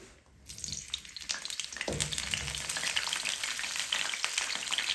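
Cauliflower dropped into hot mustard oil in a kadai bursts into a loud, dense sizzle that starts suddenly after a brief quiet moment and keeps crackling steadily.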